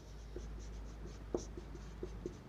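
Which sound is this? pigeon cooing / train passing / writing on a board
writing on a board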